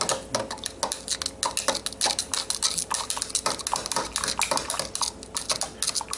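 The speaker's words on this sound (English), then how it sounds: "take this off 15 minutes later, give it a little stir about." A spoon stirs yeast starter in a metal pot during ale brewing, quick clinking and scraping strokes against the pot's sides in a busy, close, uneven rhythm.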